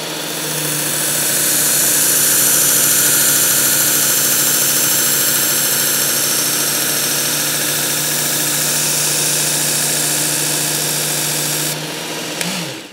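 A Work Sharp Ken Onion Edition Elite electric knife sharpener runs with a loud, steady motor whir and hiss that holds for about twelve seconds, then winds down at the end, with no talking.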